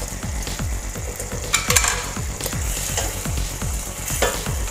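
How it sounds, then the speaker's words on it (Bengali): Fried giant freshwater prawns for a malai curry go into a boiling, sizzling gravy and are stirred, with a steady bubbling fry under repeated rhythmic scrapes of a spatula against the pan. "গ্রেভি তো একদম ফুটে উঠেছে, এবার আমি ভেজে রাখা মাছটা আস্তে আস্তে দিয়ে দিচ্ছি।"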